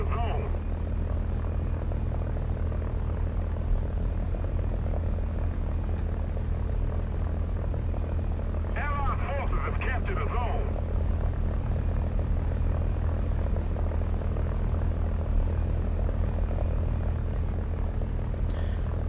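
A propeller airplane's engine in a War Thunder simulator battle, a constant loud low drone throughout with a faint brief rattle midway, while someone talks over it.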